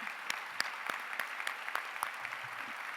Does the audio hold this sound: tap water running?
no